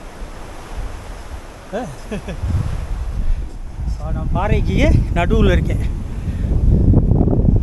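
Gusty wind on a rocky hilltop, Kondarangi hill, buffeting the microphone in low roaring surges while someone talks over it.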